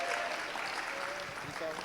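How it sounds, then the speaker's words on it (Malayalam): Clapping from a church congregation praising during a Malayalam sermon, a diffuse wash of hands mixed with murmuring voices, fairly steady and moderately loud. "ഒന്ന് കൈയടിച്ച് കർത്താവിനെ ഒന്ന് സ്തുതിച്ചേ."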